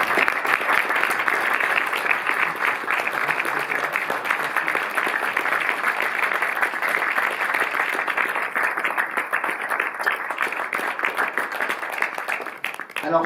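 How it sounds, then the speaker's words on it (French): A theatre audience at a cinema club screening of Frederick Wiseman's film applauds him with dense, sustained clapping that stays loud and steady throughout, with no talk over it. "je vous demande d'applaudir tout de suite Fred Wiseman"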